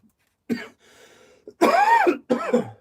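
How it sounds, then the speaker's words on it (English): A couple of harsh, close coughs and throat-clearing bursts, separated by short pauses. "bloody cough"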